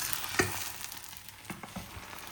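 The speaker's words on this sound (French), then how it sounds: "Je prends la spatule, je décolle les œufs rapidement." A spatula scrapes under eggs frying in a pan over a low, steady sizzle, with a sharp scrape near the start and a few softer scrapes and taps after, close and quiet with no talking.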